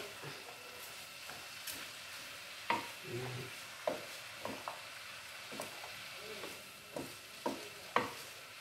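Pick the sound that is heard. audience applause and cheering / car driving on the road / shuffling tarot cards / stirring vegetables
stirring vegetables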